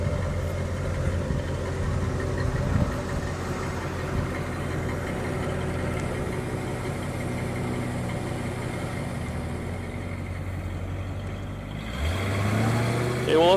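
A 1966 Ford Galaxie's 428 V8 engine idles steadily with a low, even rumble, close by, shifting slightly near the end.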